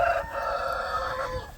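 A rooster crows in a chicken coop, one drawn-out call fairly close, with a little clucking from the hens around it and no talk.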